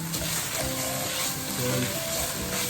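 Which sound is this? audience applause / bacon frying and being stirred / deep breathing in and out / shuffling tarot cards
bacon frying and being stirred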